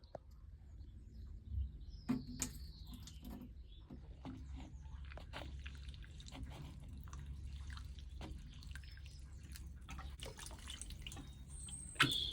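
Water trickles and drips from a watering can onto potted chrysanthemums with very dry roots, a quiet, close, steady patter with a few louder splashes and no talking.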